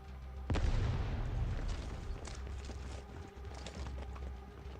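A grenade explodes in the video game Arknights: one sudden, loud, booming blast just after the start, with a rumbling low tail that fades into steady battle background noise.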